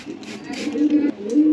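Caged pigeons coo close by, a low, throaty rolling call that swells twice in quick succession and stands out clearly against a quiet background.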